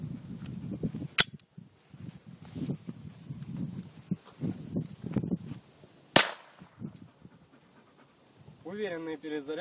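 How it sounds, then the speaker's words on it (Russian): An IZh-79-8 gas pistol fires a single domestic Teren-3 cartridge with one sharp, loud crack midway through, set among talk and handling noise; an earlier click-like transient and a dog panting near the end are also heard. "Первым патроном выстрелим отечественным Терен 3."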